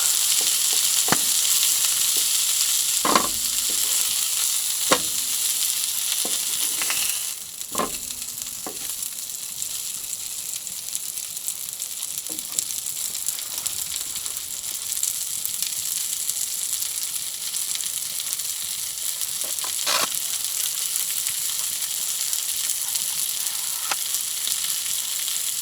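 Three flat patty sausages sizzle steadily in a pan inside a hot tent, a constant bright crackle with occasional sharper pops and spits, close and unbroken, with no talking.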